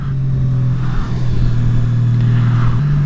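A Honda Gold Wing motorcycle cruises along a road on an early-season ride, its engine droning loud and steady close up, pitch holding level with slight shifts, wind noise underneath and no talking.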